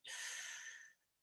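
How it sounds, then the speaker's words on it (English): One deep breath drawn in during an isometric exercise routine, a close, breathy airy rush lasting about a second before fading out. "Big deep breath in."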